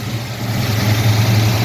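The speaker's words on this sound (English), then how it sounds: "We'll fire up the engine." A 1971 Ford XY Falcon GT replica with a 393 stroker V8, electronic ignition and an Edelbrock manifold idles with a loud, steady, deep rumble close by, and no one speaks.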